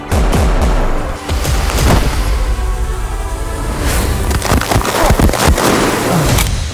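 Gunfire and booming blasts in an action movie trailer, with sharp bursts and heavy impacts crowding together over loud layered score and effects, no one talking.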